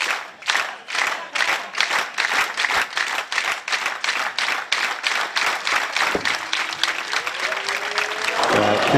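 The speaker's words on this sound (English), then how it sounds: "People are clapping." A crowd at a pool match claps in a strong, even rhythm, many hands beating together in unison, with a brief tonal voice-like sound rising near the end.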